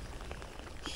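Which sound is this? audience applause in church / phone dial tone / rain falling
rain falling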